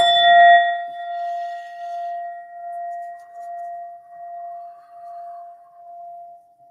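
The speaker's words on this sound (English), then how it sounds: "such as this beautiful metal bowl that I always show you with the Buddha in the middle" An Indian metal singing bowl with a Buddha in its center is struck once, giving a bright clang that settles into a long, pure, wavering hum fading slowly over several seconds, alone and close.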